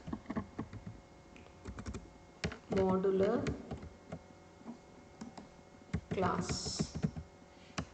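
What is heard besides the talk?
typing on a computer keyboard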